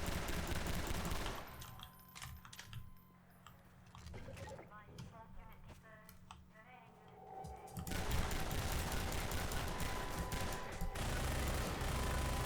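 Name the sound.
SMG gunfire in a video game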